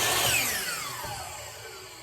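A motorized compound miter saw blade spins down after a bevel cut through wood, a loud whine that falls steadily in pitch and fades over two seconds.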